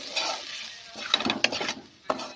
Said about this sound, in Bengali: একটু নাড়িয়ে নিচ্ছি যাতে না লেগে যায়, লেগে গেলে আবার লাল হয়ে যাবে।